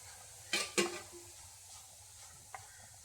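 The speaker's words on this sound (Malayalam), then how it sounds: "ചക്കപ്പൂഞ്ച് ചേർത്തിട്ട് നമുക്ക് ഇത് ഒന്നുകൂടി ഒന്ന് വാട്ടി കൊടുക്കാം." Jackfruit fibre being sautéed in a pan for a Kerala-style dish, heard as two sharp stirring scrapes early on, then a quiet low sizzle and a lighter scrape near the end.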